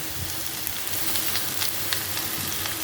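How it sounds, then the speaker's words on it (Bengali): Onions frying in hot oil give off a steady, even sizzle with faint crackles and pops, close and continuous with no voices. "পেঁয়াজগুলো লাল লাল করে আমি ভেজে নিই"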